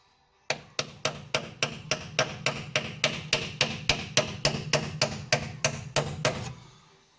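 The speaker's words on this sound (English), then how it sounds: "So just give it a little tap with a hammer." Steady hammer taps on a brake caliper part during a brake caliper swap on a 1972 VW Type 3 Squareback, about twenty sharp, evenly spaced metallic strikes at a quick, regular rhythm, close and clear with no talking.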